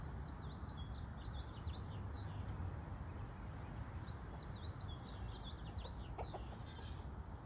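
Hens dust bathing outdoors in the sun: soft, scattered clucks and chirpy murmurs over a steady outdoor hiss, faint and continuous.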